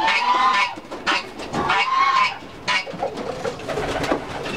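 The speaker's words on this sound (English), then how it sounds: "Pigeons." Dewlap pigeons in a breeder's loft in Pennsylvania coo close by in repeated soft, throaty phrases that rise and fall, several calls overlapping over a few seconds with no talk.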